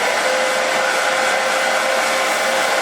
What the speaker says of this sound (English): Let me blow dry this a little bit.